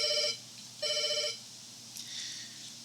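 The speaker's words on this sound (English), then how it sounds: "Then Larry's phone starts ringing." A telephone rings twice in a radio drama scene, two bright electronic trills about a second apart, then a brief faint rustle; no voices.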